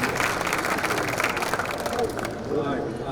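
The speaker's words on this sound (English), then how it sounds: "Applause." A conference audience applauds presenters walking onto stage at a health tech competition, a dense wash of clapping with some crowd murmur that thins out toward the end.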